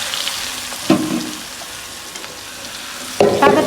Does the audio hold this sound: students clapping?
no